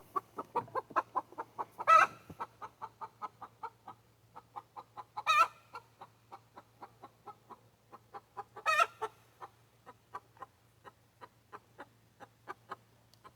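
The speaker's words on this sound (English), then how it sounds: "I've chased that chicken out of here at least 4 times today." A chicken clucks steadily in a rhythmic series of short, close calls, with a few louder squawks standing out along the way and a low steady hum underneath.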